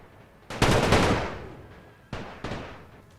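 A World War I era volley from massed troops in The Great War: a loud ragged crackle of rifle fire erupts, decays, then two more rolling volleys follow, with no voices.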